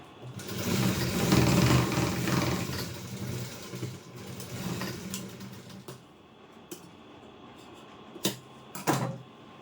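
A sewing machine stitching a four-to-five-inch folded hem on a long skirt, running in a loud, steady burst for several seconds, then slowing to a few isolated clicks and short taps as it stops.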